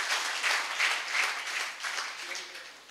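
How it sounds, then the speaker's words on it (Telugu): A church congregation at a Sunday service claps together, giving a dense, rolling wash of many hands that rises and falls slightly without a break. "చప్పట్లు కొట్టండి అందరు కలిసి"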